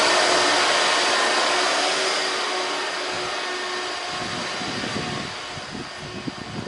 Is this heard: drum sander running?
yes